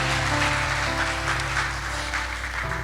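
Congregation applauding during a Portuguese-language church sermon, a steady, dense wash of clapping that fills the whole stretch at a fairly even level, with no speech over it.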